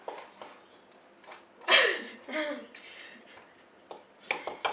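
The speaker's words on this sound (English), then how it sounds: "Liza's just giving that a little stir for me" A spoon scrapes and clinks against a pot as a cooking mixture of coconut and sugar is stirred, with scattered light taps and one louder scrape, close and fairly quiet.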